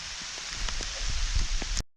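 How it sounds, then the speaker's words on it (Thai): Rain falls in a forest, a soft steady patter of drops on leaves with scattered louder taps, close and fairly quiet, ending abruptly. "มาเด้อมาเด้อฝนตกแล้ว"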